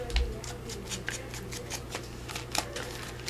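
Scissors trim the edge off a junk mail paper envelope in a quiet series of crisp, close snips, spaced irregularly over faint background hiss.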